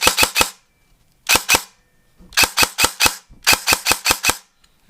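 An Arcturus AK-12 airsoft electric gun fires in rapid bursts of three to five loud, sharp cracks, each burst separated by short pauses, close and alone with no talking.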